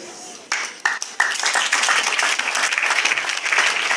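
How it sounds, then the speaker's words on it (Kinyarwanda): Audience applause fills an 80th jubilee celebration, starting with a few scattered claps that swell into steady, dense clapping from a crowd. "Mwongere mu mpera amashyi n'impundu"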